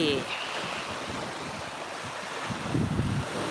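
Sea waves wash at a beach with a steady rushing hiss and wind buffeting the microphone, a swell near the end, fairly faint with no speech.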